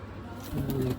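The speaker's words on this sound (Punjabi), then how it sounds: "ਇਹਨਾਂ ਕਬੂਤਰਾਂ ਨੂੰ ਪਾ ਕੇ ਦਾਣਾ" Soft pigeon cooing, a few low throaty coos close by over a quiet background hiss, as the pigeons are fed grain at home.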